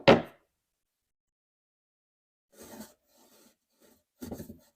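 A used wooden dresser drawer gives a sharp scrape at the start, then after a pause a few soft rubbing, squeaky slides back and forth, each short and close.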